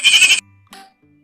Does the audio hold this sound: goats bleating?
yes